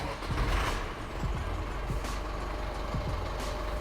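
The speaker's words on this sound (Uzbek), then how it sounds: "Motorni yoqib ko'rsatamiz." A FAW Tiger V dump truck's engine rumbles steadily and loudly nearby, a dense, continuous mechanical roar with faint clanks and no voices.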